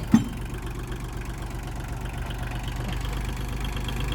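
A Kubota L2201DT tractor with front loader and rear grass-cutting attachment runs in about second gear while mowing grass, giving a steady, close engine drone throughout with no talking.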